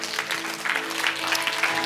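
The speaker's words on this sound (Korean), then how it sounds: "계속 박수하세요." A church congregation claps together during a sermon, a steady crowd applause with a sustained musical drone held underneath, fairly loud and continuous.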